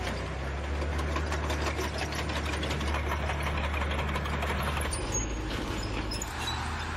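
A German StuG III assault gun's modern replacement engine idles and runs steadily close by, a continuous low mechanical drone with a faint rattling knock throughout, no talk over it.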